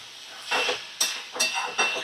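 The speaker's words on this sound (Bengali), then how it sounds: "আমি নাড়াচাড়া করে নিচ্ছি।" Banana stem is stirred in a pan over a medium flame, giving soft scraping swishes over a steady sizzling hiss, three or four close strokes in quick succession.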